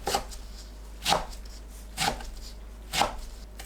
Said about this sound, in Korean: 냉이 뭉친 곳을 풀고 2cm에서 3cm 간격으로 썰어주세요